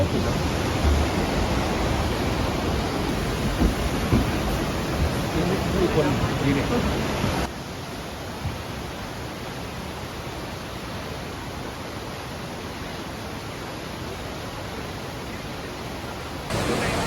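Broad, steady roar of water at the lowest viewing level of a waterfall in Nikko, Japan, loud and continuous throughout, its level dropping slightly partway through, with brief talk over it.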